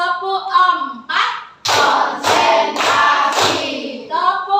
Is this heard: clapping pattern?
yes